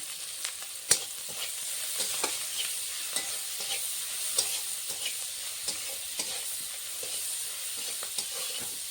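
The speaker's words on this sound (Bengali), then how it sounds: "তেলের চিংড়ি মাছের তেলের উপরে হলুদ নুন দিয়ে ভাজলে মাছটা লাল লাল হয় দেখতে" Small shrimp (kuche chingri) frying in hot oil with turmeric and salt in a kadai, a steady close sizzle broken by regular stirring scrapes and light spatter pops, with no voices.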